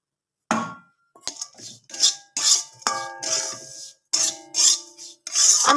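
Semolina with chopped cashews and raisins is fried and stirred in a pan, giving a series of close, rasping scrapes and clattering utensil strokes in bursts separated by short pauses.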